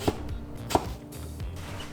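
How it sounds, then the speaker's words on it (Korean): A knife chops sweet potato into thick pieces on a cutting board for dakgalbi, making two or three sharp, close thuds spaced apart, with no talking. "먹기 좋은 사이즈로 가로 1cm 정도로 잘라주세요"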